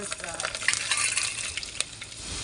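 A tempering of curry leaves and garlic crackles and sizzles in hot oil for a village-style vagharelo rotlo, busy and close with scattered sharp pops and a metal clink.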